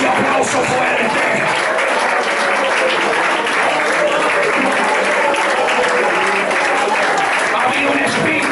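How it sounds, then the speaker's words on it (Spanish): Loud applause fills a church during an evangelical revival service, a thick and continuous roar of many people clapping with some cheering mixed in, steady and close for the whole stretch. "Ese aplauso fuerte."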